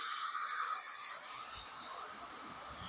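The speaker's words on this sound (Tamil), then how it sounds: "இப்போ வந்து நாங்கள் கரைச்சி வச்ச புளியை ஊற்றி கொள்கிறேன்" Dissolved tamarind water poured into a hot pan for tamarind rice, a loud, continuous sizzling hiss close up that eases slightly toward the end.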